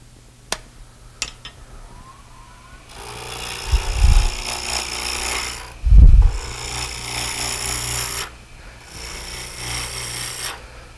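A wood lathe cuts an inside-out turning piece, making a steady, close scraping and rasping that rises in and out, with a couple of heavy low thumps and a few sharp knocks before the cutting starts.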